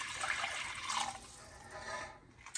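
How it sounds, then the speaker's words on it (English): Four cups of water poured into a pan of cooked pineapple and semolina for halva: a steady, close rushing pour that fades and thins toward the end, with no voices. "now it's time for me to put 4 cups of water."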